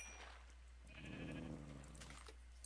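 Sheep bleating in a video game, a short mid-pitched bleat rising over steady low background hum and faint game ambience, with no talk over it.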